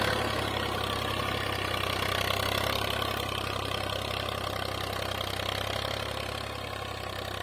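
IMT 533 tractor engine pulling a cultivator, a steady chugging diesel drone with a knocking rhythm, continuous and moderately close, with no voices.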